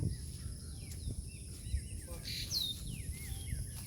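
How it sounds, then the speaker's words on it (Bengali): Several small birds chirping and twittering at a distance at dawn in a rural village, over a low background hum, with brief whistled calls scattered across the clip. "ভোরবেলায় পাখির কলরবে মুখরিত হয়ে আছে"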